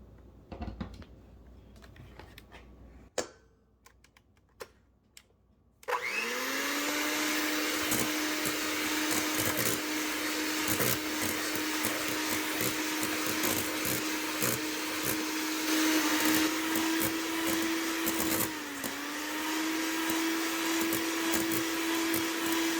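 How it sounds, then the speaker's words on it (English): An electric hand mixer beating egg whites for a chocolate cake starts with a few clicks and clatters, then whirs loudly and steadily for a long stretch, its motor pitch dipping slightly near the end. "We're going to use an electric mixer. We're going to beat these until they become frothy."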